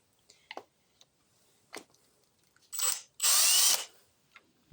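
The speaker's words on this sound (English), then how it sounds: "I have a drill with the correct bit. I'll use that to save time." A power drill removing screws from a Poulan chainsaw whirs in two short bursts, the second longer and louder, with faint clicks and taps from handling in between.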